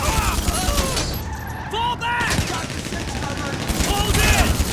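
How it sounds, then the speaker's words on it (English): Dense automatic weapons fire from enemies in GTA 5 Online, loud rapid bursts and overlapping volleys filling the scene, with a voice speaking over the gunfire. "these guys are using lots of automatics, not necessarily pistols and stuff like that"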